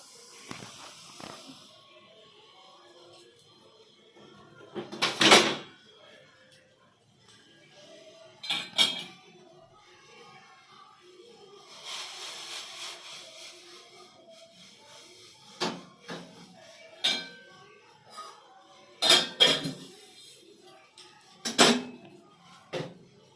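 Metal pots and utensils clink and clatter on a home stove while milk is warmed for a child, several short, fairly close knocks and scrapes spaced apart against a quiet background.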